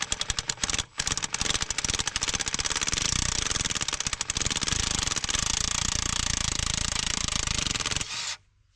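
A nut buster cracking a seized wheel nut on a Kirovets tractor, a loud, continuous hammering rattle that runs steadily for about eight seconds with a short break near the start, then stops abruptly.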